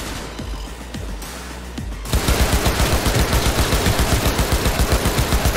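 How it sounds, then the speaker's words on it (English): Assault rifle firing in Cyberpunk 2077, a steady fast rhythm of loud close shots, sustained automatic bursts with sharp regular reports after a quieter opening. "I guess we can use the assault rifle."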